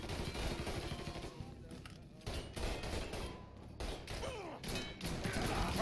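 Gunfire in the video game Mafia III rattles in dense, rapid bursts of shots and impacts over a busy, continuous background, with a voice talking in between.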